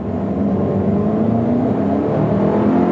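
A 2023 Buick Envision ST with four-wheel drive accelerates hard from slow speed, its engine note loud, steady and close, rising in a continuous roar heard alone without talk.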